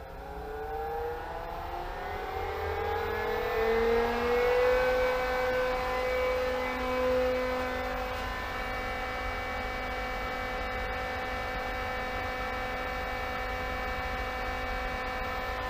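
A water pump is brought up to 3000 RPM, its loud motor whine rising in pitch over the first several seconds, then settling into a steady, constant hum with no voices.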